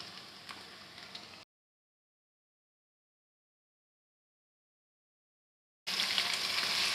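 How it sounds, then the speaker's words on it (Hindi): Chicken and onions fry in a pan with a faint, steady sizzle, broken by a long stretch of silence before the hiss returns. "चिकन को हम 4 से 5 मिनट के लिए फ्राई करेंगे।"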